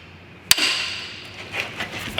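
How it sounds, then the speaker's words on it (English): A hammer strikes a 7/8 wrench fitted on an oxygen sensor of a Chevy Equinox, one sharp metallic clang near the mic that leaves a short ringing decay, followed by faint scraping and small knocks. "You just put it on your sensor like this, and then just hit it with the hammer."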